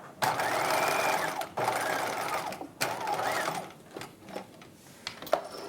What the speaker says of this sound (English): just sew to the bottom of the pocket and back stitch again